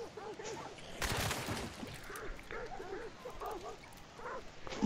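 Dogs in the video game Hunt: Showdown yip and bark repeatedly in short, rhythmic bursts at mid distance, with a sharp noise burst early on and a game ambience beneath.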